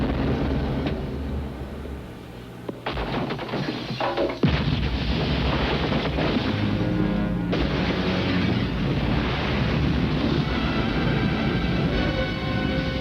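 A large aquarium tank explodes in a Mission Impossible action scene, giving loud sustained booming blasts and rumbling debris with crashing water that fill the whole stretch, with a sharp burst partway through.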